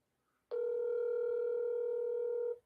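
A steady telephone dial tone starts abruptly and holds for about two seconds before cutting off, heard alone and fairly clear in a quiet setting.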